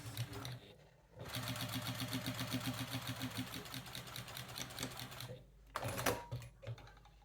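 Sewing machine back stitching along a quilt binding: a steady rapid mechanical stitching run lasting several seconds, starting after a short pause and stopping briefly before a final short burst, close and moderately loud.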